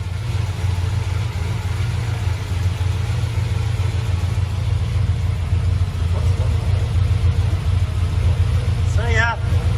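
A 1965 Chevrolet Impala convertible engine runs loud and steady with a low, continuous rumble as the car drives off, with no voices over it.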